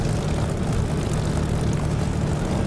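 A propeller aircraft taxis in the DCS flight simulator game, giving a steady, continuous low engine drone with a rumbling hum that stays even and close throughout, with no talk over it.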